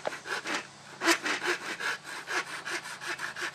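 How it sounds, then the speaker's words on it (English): A dovetail saw cuts through wood in quick, even back-and-forth strokes, each a crisp rasp, close and clear with no talking over it. "Dovetail saw."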